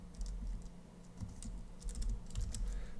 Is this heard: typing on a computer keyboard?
yes